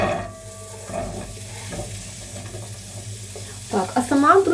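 Sliced carrots hit a hot pan and fry with a steady sizzle, followed by scraping and stirring noises; a voice briefly speaks near the end.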